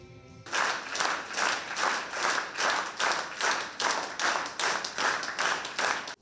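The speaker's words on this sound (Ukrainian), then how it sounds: "аплодують востаннє" Rhythmic unison clapping from mourners at a farewell for actor and soldier Yakiv Tkachenko in Dnipro, loud, steady beats about twice a second, a crowd applauding together throughout.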